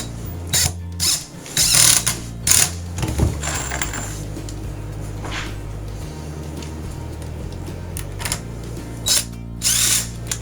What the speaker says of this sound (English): we're ready to screw it down